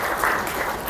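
A conference audience at a tax clinic gives a steady round of clapping, a dense, even wash of applause holding through the whole second with no voices over it.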